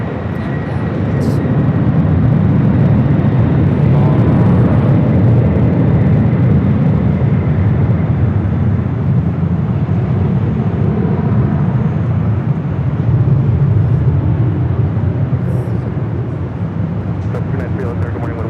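A FedEx cargo jet taking off at LAX, a loud continuous jet engine roar holding steady throughout, with people talking beneath it.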